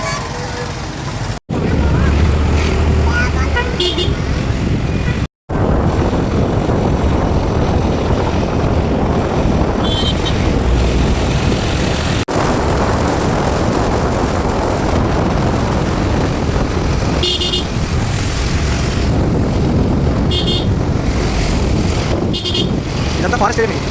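Motorcycle on a long ride through a forest area in Kerala, with a loud, steady engine and wind roar running almost unbroken. People talk over the noise.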